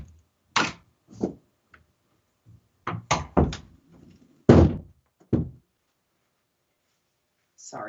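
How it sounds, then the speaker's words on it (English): A door being shut indoors, heard as a few separate thuds and knocks spread over several seconds, with quieter handling noises in between and no talking. "let me shut this door real quick"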